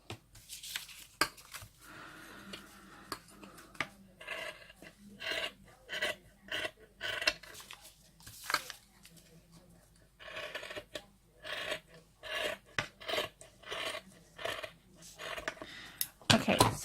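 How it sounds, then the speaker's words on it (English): Scissors roughly cutting fabric for a tilda doll, a series of short raspy snipping and rubbing bursts in an irregular rhythm, close and fairly quiet, with quiet gaps between cuts. "Now all you do is you take your scissors, and all you do is just you roughly cut in."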